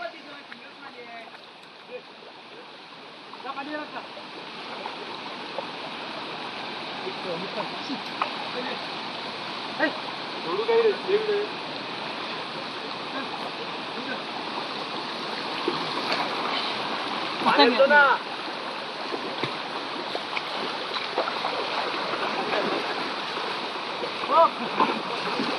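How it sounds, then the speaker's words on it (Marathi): A young racing bull from Konkan wades into water for its first swim, with flowing, rushing water and several bursts of splashing as it moves, while people talk over it. "आणि तो आता चार्जर पाण्यात चाललाय"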